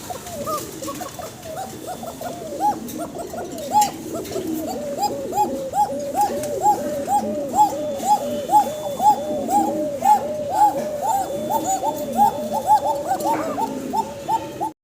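Fancy pigeons coo continuously in a rhythmic, repeated pattern, several birds close by and fairly loud, with soft background noise and no talking.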